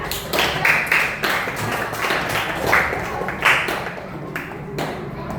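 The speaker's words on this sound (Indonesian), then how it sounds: "Silakan kelompok 2 diambil, yang lainnya tepuk tangan" Primary school children clap in uneven bursts in a classroom, several short rounds of applause with light tapping between, fairly close, no talking.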